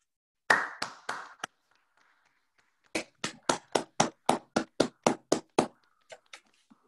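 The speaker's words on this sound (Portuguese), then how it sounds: "batemos uma grande salva de palmas a esses heróis anónimos" Webinar panelists applaud over their microphones: a few claps, a pause, then a brisk run of about a dozen evenly spaced claps fading into scattered softer ones, each clap sharp and distinct against near silence.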